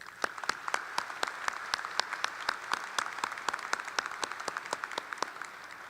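Applause from a modest crowd at a high school graduation ceremony, with individual claps distinctly audible in a quick, uneven patter that continues steadily throughout.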